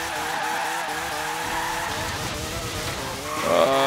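Forza Horizon 3 car engine bouncing off the rev limiter, a loud sustained buzzing drone with stuttering harmonics that rises and brightens near the end.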